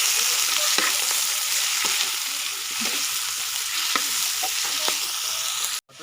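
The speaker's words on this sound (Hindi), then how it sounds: "भूनेंगे चिकन को।" Chicken pieces being browned for a desi chicken karahi, a constant dense sizzle with occasional stirring knocks, close and loud, cutting off abruptly at the end, no speech.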